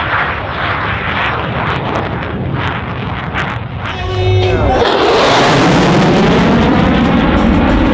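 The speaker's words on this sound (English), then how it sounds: "Major Heaster is now setting up for his first aerobatic maneuver, the Cuban 8." F-16 Viper jet at an airshow roars past, a loud broad engine rush that swells and shifts in pitch, with faint crowd and an announcer's voice partly under the noise.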